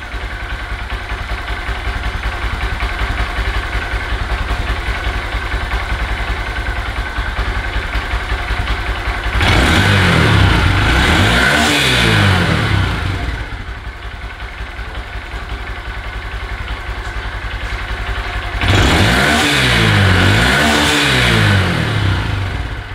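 A 2022 Honda Grom with a Yoshimura RS-9T full exhaust idles with a steady low rumble, then is revved twice in strong bursts around ten seconds apart, each settling back to idle.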